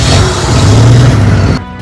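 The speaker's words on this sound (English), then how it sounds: "Fortunately, the car started." A car engine in a movie scene catches with a loud, close rumble and runs steadily for about a second and a half before cutting away abruptly.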